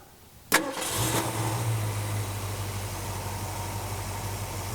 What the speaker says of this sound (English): Let's take a listen to this 289 run.